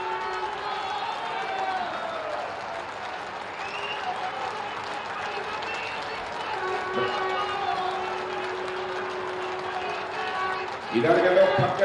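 Crowd at a Lucknow flyover inauguration applauding Nitin Gadkari and Chief Minister Yogi Adityanath, a steady wash of clapping under a voice on a PA, swelling louder near the end.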